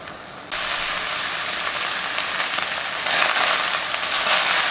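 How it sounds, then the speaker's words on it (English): Steady, dense sizzling of pork frying in a hot pan after its water has evaporated, a broad crackling hiss that grows a little louder partway through, with no talking. "You can tell that the water has evaporated."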